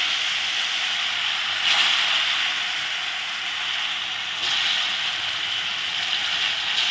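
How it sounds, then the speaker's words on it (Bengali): Dhoka pieces fry in hot oil with a continuous, fairly loud bright hiss that swells twice as more batter goes into the same oil. "এখন আবার ওই একই তেলে আবার পরেরগুলো দিয়ে দিলাম"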